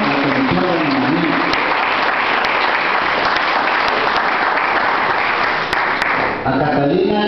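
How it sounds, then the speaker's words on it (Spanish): Sustained audience applause fills a welcome ceremony honoring visiting delegates from Artà and the Fons Mallorquí, a loud, dense clapping that runs steadily throughout and fades slightly near the end. "yo pido un fuerte aplauso para todos los hermanos que conforman la Comisión de Hermanamiento"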